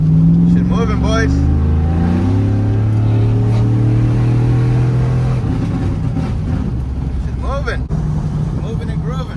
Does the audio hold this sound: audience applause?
no